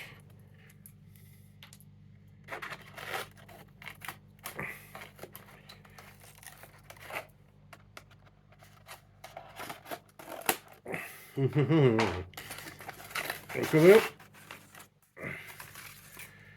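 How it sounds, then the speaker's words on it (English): Plastic packaging of a Transformers Legacy Pointblank toy being opened, with intermittent crinkling and tearing rustles of varying loudness, louder bursts toward the end, over a faint steady hum. "We're just going to open the plastic."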